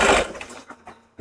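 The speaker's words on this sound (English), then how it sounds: "I'm just going to take a little quick zip here on the sewing machine and see" Sewing machine stitching a quick seam on a quilting project, a short loud whirring burst at the start, followed by a few fainter mechanical taps and a brief final buzz.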